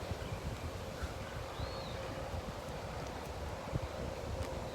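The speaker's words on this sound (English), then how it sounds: "It's very windy." Wind blows steadily outdoors, a constant low buffeting rumble against the microphone that lasts the whole stretch, with no voices.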